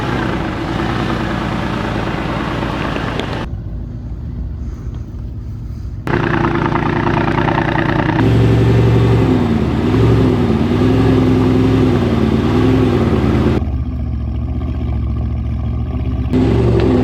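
Mercedes G-Wagon pickup crawling up rock shelves in an off-road rock garden, its engine droning steadily at low revs with rising and falling surges as it climbs, loud and close, no talk.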